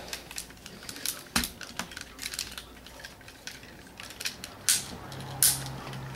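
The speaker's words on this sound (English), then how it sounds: "His joints are very tight, nice ratcheting joints." Ratcheting plastic joints of a Masterpiece Grimlock transforming robot toy being moved, a close run of small irregular clicks and creaks, quiet and with no voice.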